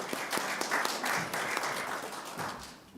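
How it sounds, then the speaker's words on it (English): A brief burst of applause, many hands clapping together, moderately loud and steady before fading slightly. "you should give yourself a round of applause"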